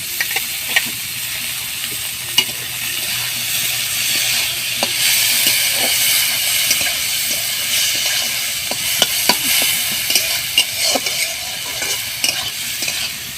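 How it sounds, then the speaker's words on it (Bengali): Chopped tomato frying with garlic and onion in a pan for chicken Maggi, a loud steady sizzle with scattered clicks of stirring, no voices. "টমেটো দিয়ে একটু ভাজা ভাজা করে"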